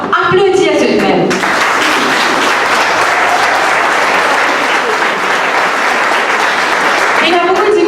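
Sustained, loud applause from a rally crowd in Mauritius, a dense wash of clapping that starts abruptly after a second of talk and fades near the end as a voice returns.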